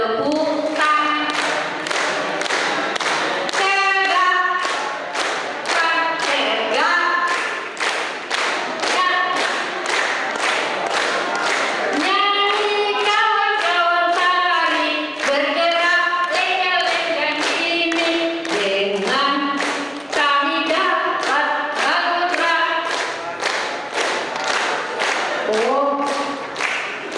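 Scouts clapping hands in rhythmic unison, sharp repeated claps in quick patterns for almost half a minute, with bursts of voices singing along between and over the beats.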